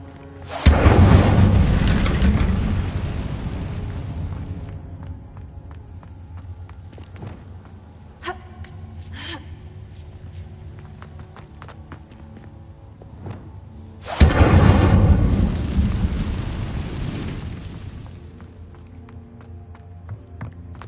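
Incendio fire spell cast in a Hogwarts video game, giving two loud booming whooshes that burst and slowly fade, one at the start and another midway, with faint game effects between.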